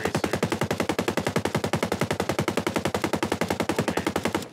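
Rifle firing tracer rounds in the Ghost Recon video game, a long, loud, evenly spaced automatic burst of roughly ten shots per second that runs unbroken for several seconds with no speech.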